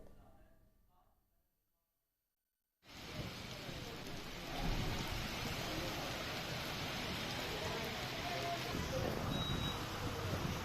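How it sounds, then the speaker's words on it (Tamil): Heavy nighttime rain in Sirkazhi, Mayiladuthurai district, Tamil Nadu, starting abruptly after a short quiet stretch and then pouring as a dense, steady hiss that stays loud and constant. "மயிலாடுதுறை மாவட்டம் சீர்காழி சுற்றுவட்டார பகுதிகளில் இரவில் கனமழை பெய்தது."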